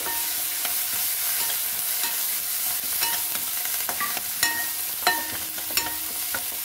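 Tomato masala with fresh coriander is stirred in a pan for dhaba-style arhar dal fry, a dense sizzle broken by sharp scrapes and taps of a spoon against the pan, with no talk.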